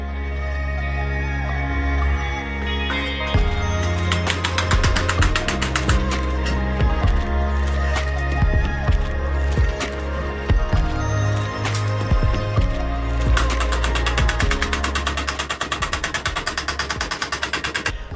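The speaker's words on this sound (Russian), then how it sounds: "Делаем это кустарным способом на шарике молотком." A dented motorcycle exhaust resonator is beaten back into shape with a hammer over a metal ball, sharp metallic taps coming in uneven bursts and rapid runs, close and loud, with no talk.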